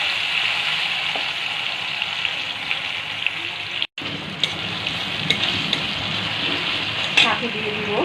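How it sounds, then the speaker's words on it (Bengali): Chopped tomatoes cook in a pan for a macaroni pasta dish, giving a steady moderate sizzle with occasional stirring clicks and a brief break midway. "টমেটোগুলো আরেকটু নেড়ে হালকা একটু সিদ্ধ করে নেব"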